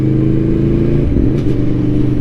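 A 2021 Aprilia Tuono V4 Factory motorcycle runs at low speed with a loud, close engine drone, and a brief change in its note marks an upshift through the stiff quick shifter, with no talk.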